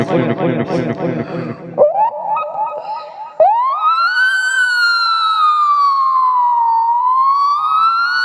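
A mimicry artist on stage imitates an ambulance siren with his voice: a few choppy vocal bursts, then a loud, sustained wailing tone that rises and slowly falls.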